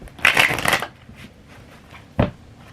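A quick riffle of tarot cards being shuffled, crisp and close, followed after a pause by a single short snap of cards settling.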